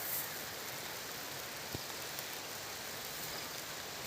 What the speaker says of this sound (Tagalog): Maulan na talaga.